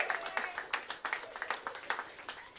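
Applause breaks out during a political speech by Speaker Pelosi celebrating passage of an infrastructure bill, a crowd clapping in fairly steady, rapid bursts that carry on without words.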